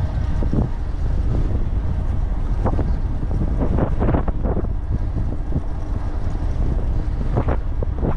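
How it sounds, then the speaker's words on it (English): Steady, loud wind buffets the microphone throughout an afternoon ebike ride on the Wabash Cannonball Trail in Oak Openings, a continuous roaring rumble with occasional gusting thumps and no talk. "Damn wind."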